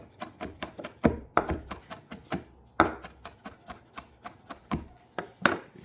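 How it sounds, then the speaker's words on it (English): A knife slicing onion on a cutting board for Ilocano-style pork barbecue, crisp rhythmic chops in quick runs with brief pauses between them, close and clear, no voices. "this is how you slice your onion"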